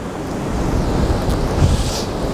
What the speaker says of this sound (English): let's get out of this wind for a sec